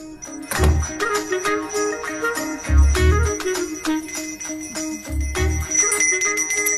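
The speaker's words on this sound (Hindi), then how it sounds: "मुझे जल्दी आओ बोल के यहाँ पर घंटी बजा रहे हो" Repeated bright bell ringing in clusters, several quick strikes each, with a ringing tonal drone between them; no voices.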